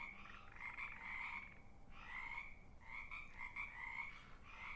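A chorus of frogs croaks in a steady, pulsing rhythm, soft and somewhat distant, with no voices.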